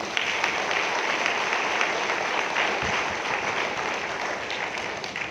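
An audience applauds in a continuous, even burst of clapping that holds steady throughout, dense and fairly close, with a faint voice barely present beneath it.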